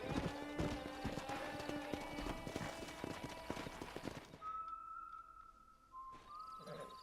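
Horse hooves in the video game Red Dead Redemption clop rapidly in a galloping rhythm, loud and close, then stop, leaving quieter ambience with a brief bird call.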